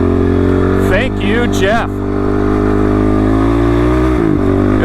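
A Honda motorcycle engine revs and accelerates up close, pitch rising in several quick sweeps before settling into a steady drone, with someone briefly speaking over it.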